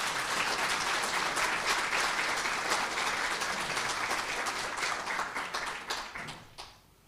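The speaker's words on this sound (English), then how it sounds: "can we give them a round of applause?" An indoor audience at a university book launch applauds steadily for several seconds, the dense clapping fading out toward the end.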